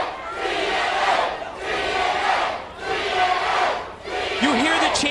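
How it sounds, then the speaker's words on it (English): A wrestling crowd in the TNA Asylum chants in loud rhythmic waves during an X Division match, swelling and dipping in four repeated surges with a voice briefly rising near the end. "You hear the chants throughout the TNA Asylum as this X Division matchup continues"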